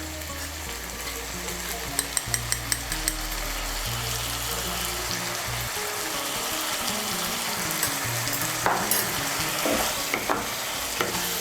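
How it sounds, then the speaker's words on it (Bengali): Spice paste with salt sizzles and is stirred in a pan for Bengali vegetarian mocha ghonto made with banana flower and chickpea and lentil fritters, a constant close frying hiss with scraping stirs and a few light clinks, and no talking. "মিশিয়ে নিয়ে মশলাটাকে একটু ভালো করে কষিয়ে নেব"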